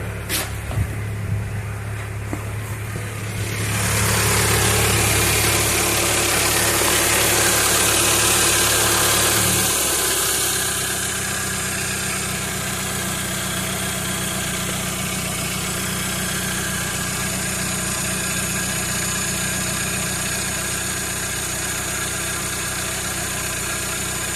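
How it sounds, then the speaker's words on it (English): A Toyota Camry 2.2 engine idles steadily at close range, a low continuous hum with a louder revving stretch early on before settling back to a smooth drone. "with the engine running for about 10-15 minutes"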